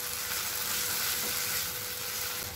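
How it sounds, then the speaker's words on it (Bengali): Roasted mustard, chilli and garlic paste being stirred in a hot pan, a dense continuous sizzle and frying hiss with faint stirring underneath, close and steady throughout, no voices. "এই পেস্টটা দিয়ে 1 মিনিট মতন এটাকে একটু নাড়াচাড়া করে নেব।"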